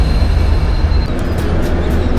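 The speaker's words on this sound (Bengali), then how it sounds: "আমাদের ট্রেন 62-617 এই মুহূর্তে ছেড়ে দিল বানিহাল স্টেশনের 2 নম্বর প্ল্যাটফর্ম থেকে বাগডামের উদ্দেশ্যে।" Train pulling out of Banihal station in the Kashmir mountains toward Srinagar, a steady low rumble and rolling noise filling the whole clip without speech.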